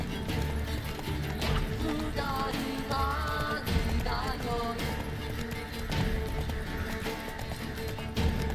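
Roach, a horse in the video game The Witcher 3, gallops with a steady clip-clop of hooves under game music, while a rider's voice urges it on across the clip.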